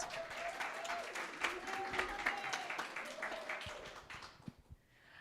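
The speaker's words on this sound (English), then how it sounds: "Another round of applause." Congregation at a Sunday service applauding in a sustained round of clapping that fades out near the end, with a sustained tone and a few knocks underneath.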